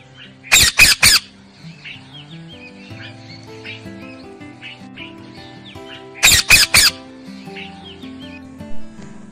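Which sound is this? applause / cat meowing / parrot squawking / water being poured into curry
parrot squawking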